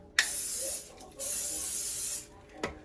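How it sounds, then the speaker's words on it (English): Two short bursts of aerosol cooking spray hiss close by onto a mini waffle maker, each lasting about half a second to a second, with a faint click afterward. "What I'm gonna do is spray down this waffle maker."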